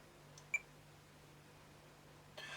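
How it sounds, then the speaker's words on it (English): A single short, bright electronic beep from a Sony ICF-PRO80 radio under repair, with a faint click just before it, sounding alone over a low steady hum and quiet hiss. "Now we do get a beep out of it, so the beep circuit's actually working."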